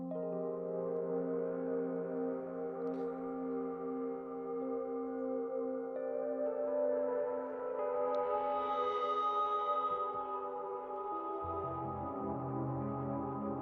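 A Rhodes electric piano runs through a Sound Toys effect chain, giving sustained, layered chords with a soft, smeared tone that shift gradually and hold at a moderate level with no talking.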